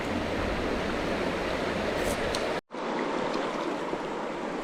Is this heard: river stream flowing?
yes